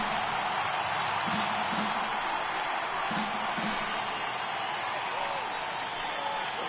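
A baseball stadium crowd of over 39,000 at a Cardinals vs. Mets game, a steady, broad roar of cheering and applause that holds at an even level throughout, with a few faint whistles rising above it.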